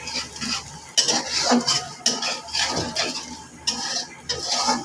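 Ground spice powders fry in a pan for a fish-head pilaf, with loud, repeated metal scrapes and clinks of a spoon stirring against the pan over a soft sizzle.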